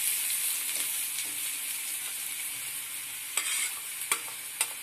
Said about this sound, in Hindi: इसमें लहसुन अदरक का जो कूच के रखी हूँ उसको डालती हूँ, चला लेती हूँ।